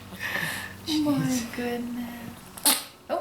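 A newborn baby gives a short, sharp sneeze near the end, close and brief, after an adult speaks softly to the infant.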